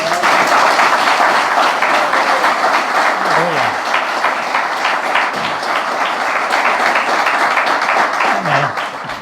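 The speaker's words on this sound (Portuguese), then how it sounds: "Vamos dar uma salva de palmas para Jesus." A church congregation applauds for Jesus, loud sustained clapping that runs throughout with scattered voices and brief vocal sounds mixed in.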